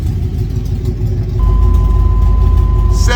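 An LS-swapped OBS Ford truck idles loud and close with a raspy exhaust that may be loose, stepping up to a steadier, louder drone partway through with a faint whine over it.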